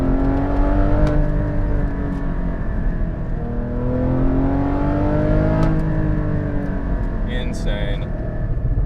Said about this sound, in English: That's like a PDK-esque downshift right there.